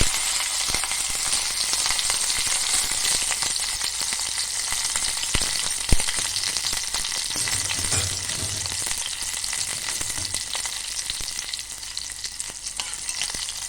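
Cumin seeds and chili sizzle in hot oil for a tempering, a dense continuous crackle with scattered sharp pops and a few utensil clinks, steady and close with no voices.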